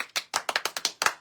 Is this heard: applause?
yes